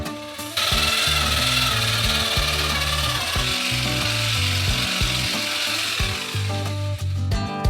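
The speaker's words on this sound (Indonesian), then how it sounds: "Dan campurkan ke dalam es krim dengan mixer besar." A large mixer beating ice cream mixture, a loud continuous mechanical grinding with a choppy, ratcheting rhythm that runs the whole time without talk.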